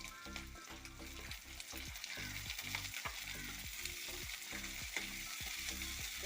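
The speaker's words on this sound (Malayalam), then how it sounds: "കൊച്ചുള്ളി ഇട്ട് കൊടുക്കാം." Shallots fry in oil with ginger, garlic and green chili for a sardine thoran, giving a steady sizzle broken by regular rhythmic stirring scrapes, close up with soft music in the background.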